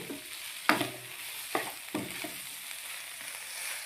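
Chicken and vegetable samosa puff stuffing with black pepper cooks in a pan, a low sizzle broken by a few distinct scraping stirs, each a short burst.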